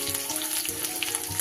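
Chopped green chillies hit hot oil in a pan, setting off a steady, close crackling sizzle with small pops throughout, with no voices.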